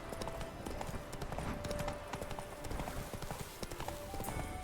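Horse hooves clip-clop in The Witcher 3, a rapid, even trotting rhythm that stays close and continuous throughout, with faint game ambience behind it.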